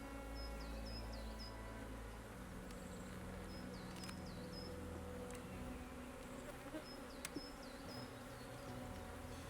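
Honey bees buzz in a dense, steady drone around an opened hive during a spring inspection, the hum close and continuous, with a few higher passing whines from individual bees.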